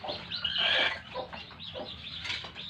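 A hen in the middle of laying eggs gives a short run of close, throaty clucks and squawks, loud and alone.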